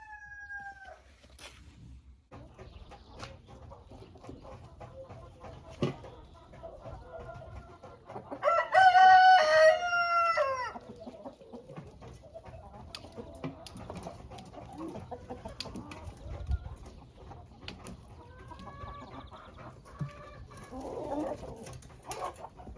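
Free-ranging hens, including a white Silkie, cluck softly around a yard while a rooster lets out one loud crow midway, with scattered clucks and calls continuing outdoors afterward.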